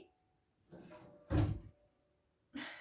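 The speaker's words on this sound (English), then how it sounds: "My cat just closed my door." A cat pushes an indoor door shut: a soft rustle, then one solid thump as the door closes, followed by a quieter knock, all faint in a quiet room.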